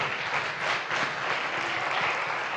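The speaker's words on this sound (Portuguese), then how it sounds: "Vamos aplaudir o nome do Senhor Jesus mais uma vez" A church congregation applauds during a worship service, a dense, steady wash of many hands clapping close by with no voices standing out.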